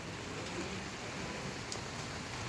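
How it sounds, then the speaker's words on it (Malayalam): Heavy rain pours steadily during a storm in Annasseri, a dense, even hiss of water that stays close and constant throughout with no voices. "നല്ല മഴയുണ്ട് കേട്ടോ"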